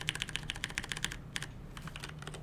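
Rapid typing on a computer keyboard, crisp close key clicks in quick bursts with a short pause midway, then lighter, sparser taps.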